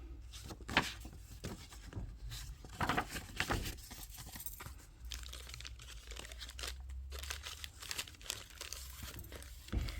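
Brown paper bag and book pages handled up close, with soft crinkling, rustling and brief tearing-like scrapes scattered through, under a low steady background hum.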